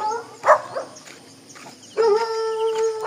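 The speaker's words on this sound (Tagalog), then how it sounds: "Ang daming aso." Dogs on a mountain trail giving short yips and whimpers, then a drawn-out howling bark, fairly close and loud against quiet outdoor background.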